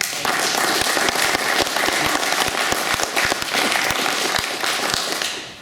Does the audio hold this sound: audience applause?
yes